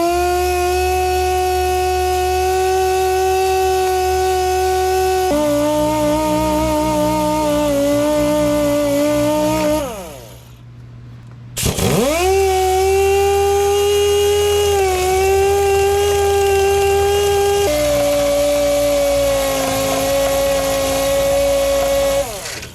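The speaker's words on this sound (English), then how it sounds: "we're just gonna hit this with some sandpaper and call it good." Sandpaper is held to a spinning brake rotor from a 1980 C10, producing a loud, steady mechanical whine that shifts pitch, cuts out briefly around the middle, then spins back up.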